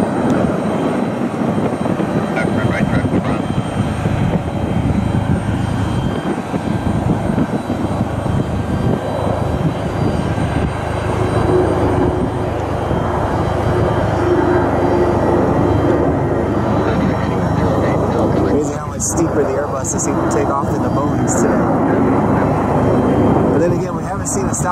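A Boeing 737 MAX 8 airliner moves about the airport after de-icing, its engine roar steady and loud throughout, with voices talking over it.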